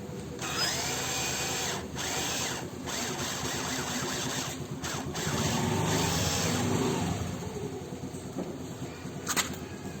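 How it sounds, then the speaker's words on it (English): A power tool runs continuously, loosening the rear shock absorber bolt on a Honda Activa scooter, a steady whirring grind with brief pauses and a louder stretch midway, close and without speech. "Now turn the bolt securing the rear shock absorber anti-clockwise to open."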